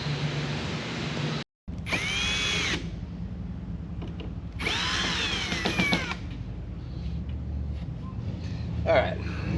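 Power tool driving bolts to fasten the package shelf in a Firebird, with two loud close whining bursts and a ratcheting rattle, plus workshop clatter and a voice speaking.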